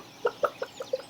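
Chickens clucking in the farming video game Stardew Valley, about five short, close clucks in a quick uneven series with no talking.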